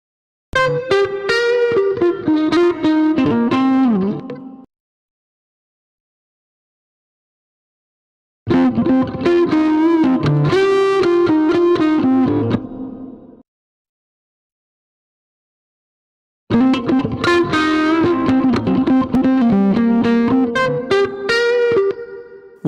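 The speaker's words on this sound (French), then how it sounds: "la guitare de gauche devrait avoir une distorsion plus une réverb" Electric guitar run through distortion and reverb effects, played in three separate loud phrases of gritty, sustained chords and notes with silent gaps between them.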